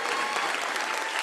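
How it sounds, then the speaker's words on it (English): A seated audience at a startup pitch competition final claps in dense, steady applause that fills the whole moment. "let's just give a round of applause to every single person who is up on this stage"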